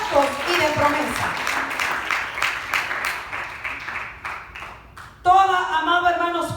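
A church congregation claps in a quick, regular rhythm while a loud voice carries on over the clapping, then the claps drop away as the voice swells.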